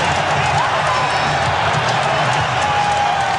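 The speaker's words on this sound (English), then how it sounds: "Boy, that crowd going to give him a standing O." Loud arena crowd roaring and cheering for Dennis Rodman at a Chicago Bulls basketball game, a sustained dense ovation with whoops and clapping filling the whole stretch.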